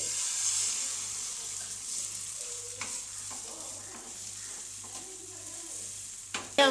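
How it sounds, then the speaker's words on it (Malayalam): A hot pan sizzles softly and steadily after an egg and vegetable mixture is poured in, a faint continuous frying hiss with occasional light stirring clicks and small clatters. "അപ്പൊ പാൻ ചൂടായി നമുക്കിനി ഒഴിച്ചു കൊടുക്കാം"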